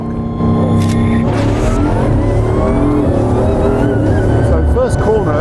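A race car accelerates at full throttle out of the pit lane the moment its speed limiter is released. A loud, continuous engine roar climbs steadily and fills the whole stretch, with a voice talking over it.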